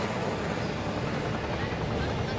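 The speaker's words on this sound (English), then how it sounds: "he has to land the helicopter on the surface of the water" A helicopter sets down on the surface of the water with a steady, close roar of rotor and engine that fills the whole stretch without a break.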